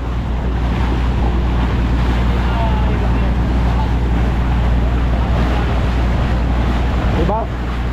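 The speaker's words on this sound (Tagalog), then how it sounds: "malalaki ang alon doon" Big ocean waves rolling in at Siargao Island, the Philippines' surfing capital, heard as a continuous low roar of surf heavily mixed with wind buffeting the microphone, with faint voices in the background.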